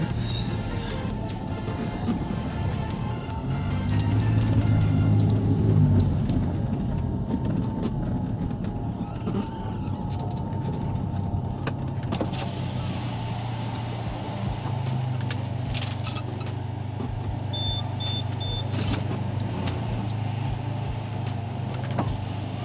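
Audi A4 B6 Avant wagon on a test drive after bump stop cutting, steady low engine and road rumble with a brief louder swell early on and a few light rattles.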